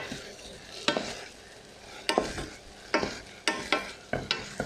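Sardine stuffing ingredients, seasoned with salt and pepper, sweat in a pan with a soft, steady sizzle, and a spoon scrapes and stirs them in repeated sharp strokes.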